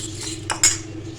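Chicken pieces being mixed with garlic powder and spices in a bowl, giving a few light metallic clinks and scrapes of a spoon against the dish, close and quiet with no talk.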